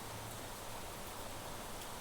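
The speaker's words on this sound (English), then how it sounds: "how is it raining inside of this cave?" Steady, soft hiss of rain falling inside a cave in The Planet Crafter, an even wash of noise with no distinct drops and no other sounds.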